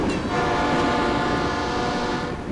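A train in Norway sounds a long, steady horn over the low rumble of rolling cars, loud and close, the tone holding for about two seconds before fading.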